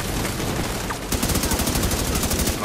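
Deployed turret firing rapid automatic bursts at enemies during a firefight in The Division 2, the shots steady and loud, with a dense layer of other gunfire and a voice faintly underneath.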